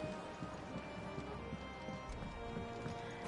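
Chocobo footsteps in Final Fantasy 16, a steady quiet clip-clop of hooves trotting along with faint ambient background and no talk.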